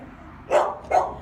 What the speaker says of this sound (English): Stop barking. There's nothing over there.